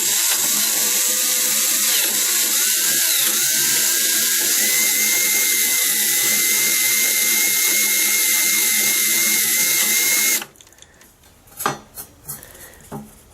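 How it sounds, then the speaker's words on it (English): A drill bores steadily into an aluminum license plate, giving a loud continuous high-pitched whine that runs for about ten seconds and then cuts off, followed by a few scattered clicks and scrapes. "Make sure I don't drill all the way through, otherwise it will defeat the purpose, right?"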